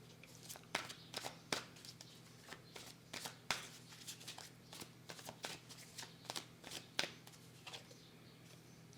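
Tarot cards are shuffled, handled and laid down on a table during a reading, giving a steady run of soft riffling and sharp slapping card sounds with close, crisp snaps and no talk.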